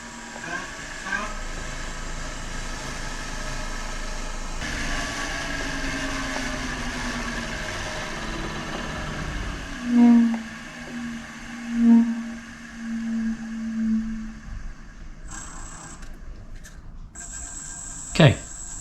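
A wood lathe spins a beech yarn bowl at 1200 RPM, giving a steady tonal motor hum and whine that runs throughout, with a few brief swells and a short higher-pitched burst near the end.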